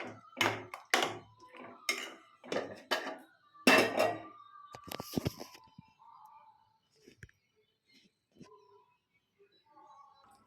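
A spoon clatters against a pot while cauliflower potato kurma is stirred, a run of sharp metallic clinks and scrapes that thin out into quieter taps.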